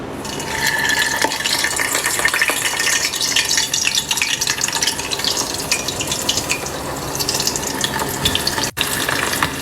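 Chicken poppers frying in a generous amount of oil over a strong flame, a steady loud crackling sizzle with stirring and bubbling running throughout, close up and without talk.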